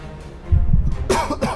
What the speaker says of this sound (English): I'm actually still getting over acute bronchitis, so I cough occasionally.